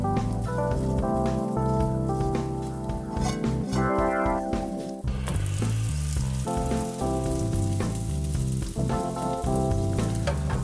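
Potatoes fry in a pan with a dense, steady sizzle. Scrapes and clinks from flipping are heard at close range, and a louder spatter comes partway through.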